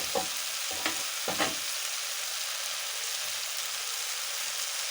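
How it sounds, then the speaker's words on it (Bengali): Soybean chunks sautéed in a pan, giving a steady frying sizzle with a few soft stirring scrapes near the start, close and moderately quiet, with no talking. "সোয়াবিনটা আমার কষানো হয়ে গিয়েছে"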